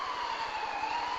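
Wailing emergency siren with a slowly sliding tone, heard at a haunted graveyard attraction, steady and fairly loud across the short moment with a low rhythmic engine pulse beneath.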